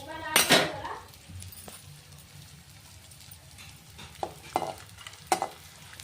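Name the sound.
edible gum (dink) frying in hot ghee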